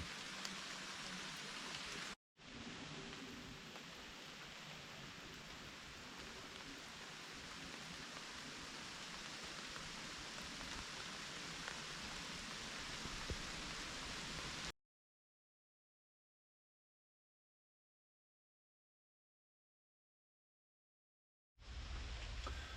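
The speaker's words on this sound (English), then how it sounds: "Last night it rained for quite some time" Steady rain falls through the night at a state park campsite, a dense, even hiss of drops on surfaces that runs unbroken for long stretches, interrupted by gaps of silence.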